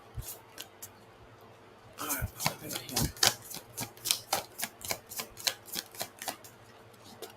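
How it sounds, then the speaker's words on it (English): Playing cards are shuffled by hand in a run of crisp, rapid snaps and riffles, close and fairly loud after a brief quiet start, with no talking over them. "I was going to shuffle my cards"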